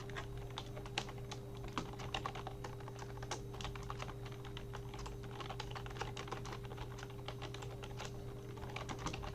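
Text is typed on a computer keyboard in quick, irregular bursts of light key clicks, steady and close over a constant low electrical hum, with no talking.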